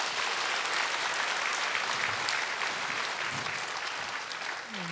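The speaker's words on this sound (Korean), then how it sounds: "다시 한번 큰 박수 부탁드립니다" Dense, steady applause from an audience following a choir's performance at a Seoul regional joint worship service, sustained evenly for the whole stretch without pause.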